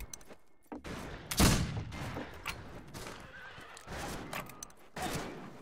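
Revolver shots crack in the Western shooter Fistful of Frags, including one strong blast among scattered sharp reports, with a horse whinnying and hooves in the mix.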